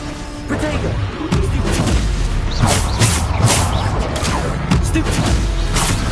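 A Bombarda spell in Hogwarts Legacy sets off a series of booming blasts and crashes that layer over continuous loud game combat noise, with people shouting throughout.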